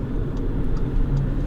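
A 2015 Audi RS3 Sportback with its five-cylinder engine, heard from inside the car as a steady, loud low engine drone and road rumble under acceleration, with no talking.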